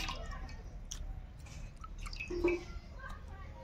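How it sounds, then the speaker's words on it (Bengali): Raw chicken is rinsed in water for a spicy chicken curry, giving faint wet squishes and small drips up close, quiet and intermittent. "চিকেনটাকে একবার ধুয়ে নিয়েছি, আরেকবার সুন্দর করে ধুয়ে নেব।"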